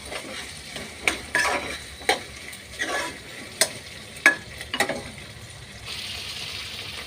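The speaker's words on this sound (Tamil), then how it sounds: "காய் கொஞ்சம் நேரம் வதங்கட்டும். நல்லா எல்லாம் கிளறி விடுவோம்." Vegetables sautéing in a pan for vegetable rice are stirred with a utensil: a string of sharp scraping clacks against the pan rises over a soft, steady sizzle, which swells into a fuller hiss toward the end.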